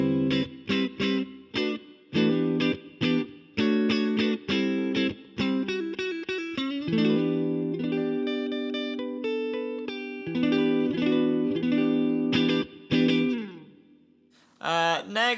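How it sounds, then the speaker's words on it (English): Electric guitar through an Overloud later blackface Deluxe amp model, a cleaner, scooped tone at low volume: picked chords and single notes ringing with chorus-like shimmer, then sustained held chords, ending in a brief noisy burst. "this is basically your later blackface deluxe, a bit cleaner, a bit more scooped"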